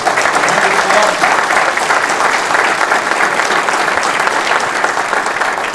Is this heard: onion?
no